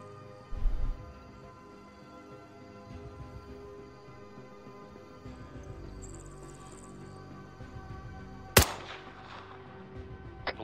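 Scattered gunfire in an ArmA 3 battle: mostly distant, muffled shots over a hissing insect-like backdrop, with one sharp, loud crack near the end followed by faint echoing reports.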